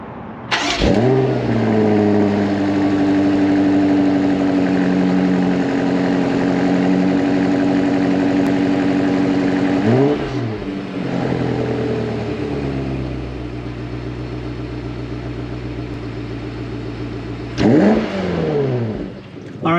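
A 2021 BMW X5M Competition engine idles with a steady rumble, then revs up sharply twice, rising and falling near and loud with no talking.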